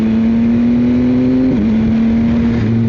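Yamaha XSR900 motorcycle fitted with a Kelpie exhaust, holding a steady, loud engine drone that dips slightly in pitch midway, then settles again, heard up close without any talk.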